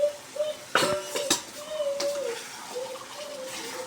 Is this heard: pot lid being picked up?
yes